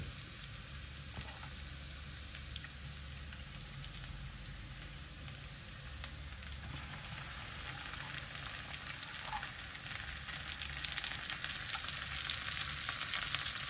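Marinated pork, soaked in lemon and pepper, frying in a pan for Filipino menudo stew: steady, faint sizzle with a crackling hiss throughout, no voices.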